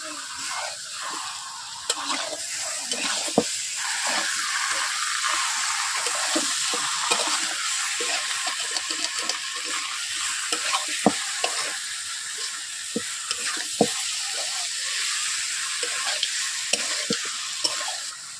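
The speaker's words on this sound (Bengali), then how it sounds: "আলু দিয়ে দিচ্ছি, একসঙ্গে কষিয়ে নেব আলু" Potatoes stirred and sautéed with chicken in a pan for Bengali-style aloo jhol, a steady close sizzle broken by frequent scraping stirs of the spoon against the pan.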